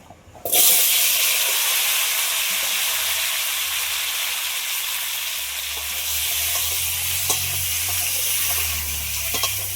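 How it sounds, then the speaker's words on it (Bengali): A loud, steady sizzle of potatoes and kohlrabi frying in hot oil starts abruptly and continues evenly throughout, close by. "মাছ ভাজা তেলের মধ্যে আলু আর ওলকপিটা ভেজে নেব।"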